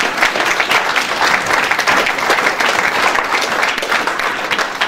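A church congregation breaks into loud, sustained applause and cheering, dense clapping filling the whole stretch without pause, close and full.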